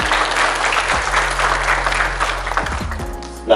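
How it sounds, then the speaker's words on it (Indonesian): Audience applause at a children's forum congress in Kediri, a steady crowd clapping that fills the hall at moderate loudness, tapering slightly near the end, with a low hum underneath. "tepuk tangan dulu."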